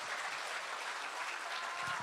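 Steady applause from an audience at a book launch event, a dense even wash of many hands clapping that stays loud throughout, with no voices over it.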